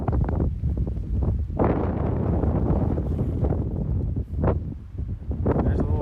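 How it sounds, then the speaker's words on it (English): Strong wind roars and buffets the microphone in heavy gusts at a campsite in Iceland during drizzle, rising and easing over a few seconds with a brief voice in between. "it is extremely windy"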